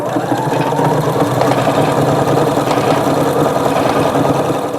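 A sewing machine runs a serpentine stitch around fabric for a napkin basket, a steady, continuous motor whir with rapid needle chatter throughout, close and fairly loud.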